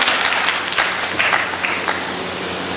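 Audience clapping at a Hindi poetry recital in Rai Bareilly, a fairly loud round of applause with distinct claps early on that gradually settles into a softer, thinner patter.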